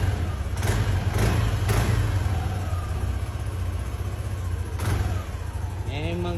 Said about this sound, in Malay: Engine masih standard guys. Korang boleh dengar sendiri.